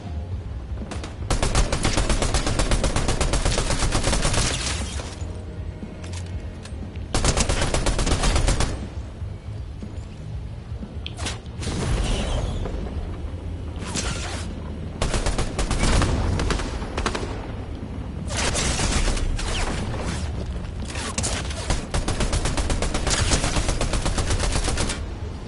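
Video game gunfire: long bursts of rapid automatic fire alternating with single shots and short pauses, loud and close, continuing for about twenty-five seconds with no talking.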